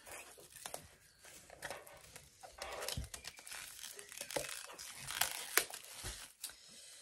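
Paper notebook of thick 200-gram paper with a textured cover, 14 by 14 cm, being opened and handled at close range, giving a series of soft crinkling and rustling sounds with a few sharper crisp bursts.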